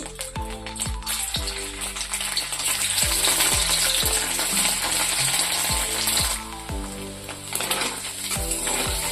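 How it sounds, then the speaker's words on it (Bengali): Steady crackling sizzle of paneer pieces frying in a little white oil in a kadai, continuous and close, with occasional sharper pops and clinks of a utensil against the pan. "হালকা পনির ভাজা হয়ে এসছে"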